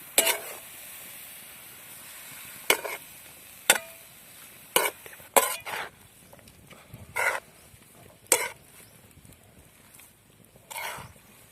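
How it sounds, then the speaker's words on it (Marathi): Grated carrots are stirred and fried in ghee for gajar halwa: a soft sizzle broken by about ten sharp scraping strokes of the spoon against the pan, spaced irregularly. "तुपामध्येच हलवून घ्यायचे आहे चांगले तर आपल्याला पाच ते सहा मिनिटांपर्यंत हे असंच हलवून घ्यायचं आहे"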